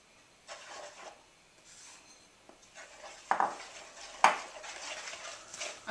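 Flour being mixed into homemade pizza dough in a bowl: soft scraping and stirring strokes, a few sharper knocks of the utensil against the bowl, close and fairly quiet, with no talk.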